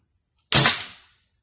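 A single sharp, loud pop from a homemade PVC gas gun fired at a target, emerging from silence and decaying quickly.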